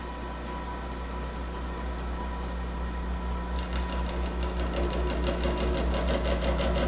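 A gear-cutting machine shaping a gear tooth runs with a steady mechanical hum, and a fast ticking chatter builds in the second half as the cut proceeds.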